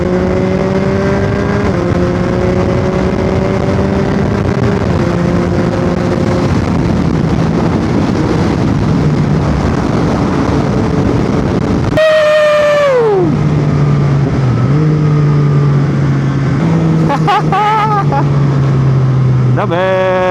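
A Yamaha MT-09 motorcycle engine drones steadily while riding, its pitch climbing and dropping through gear changes under heavy wind buffeting, with a sharp rev swell midway and a voice talking at times.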